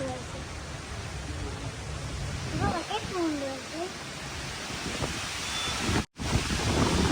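Large volume of water in a dam reservoir after heavy rain, a steady broad rushing wash with wind buffeting the microphone, continuous and fairly loud, with a brief dropout near the end and some speech-like sounds mid-clip.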